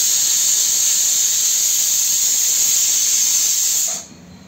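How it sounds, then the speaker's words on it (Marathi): A pressure cooker on a kitchen stove whistles as it releases steam, a loud, steady, high hiss held for about four seconds before cutting off abruptly. "कुकरची मी शिट्टी आता होते इकडे बघा."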